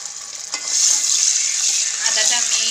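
Ginger paste hits a pan and fries with a bright, loud sizzle that swells after a brief clink and holds steady with light stirring scrapes.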